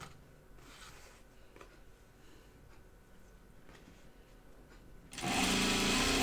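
A sewing machine stitches fabric for a floor pouf: soft handling and rustling at first, then the motor kicks in loud and steady, running continuously close by.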